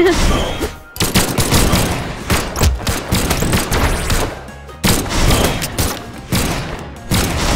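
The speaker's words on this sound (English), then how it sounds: "These blasters don't shoot very far, right?" Blaster gunfire rattles through a Brawlhalla team battle in a loud, dense fusillade of rapid shots and thumps. The bursts come in clusters with a couple of brief gaps, and no talk is heard.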